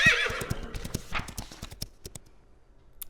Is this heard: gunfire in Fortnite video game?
no